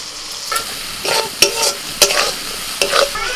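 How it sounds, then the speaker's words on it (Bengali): Spice paste of ground coriander and salt frying with tomato in a pan, a soft steady sizzle broken by sharp stirring scrapes and clacks of a spatula at irregular intervals, close up with no talk. "টমেটো একটু ভাজা ভাজা করে নিয়ে এবার এই মশলাটা আমি দিয়ে দিচ্ছি"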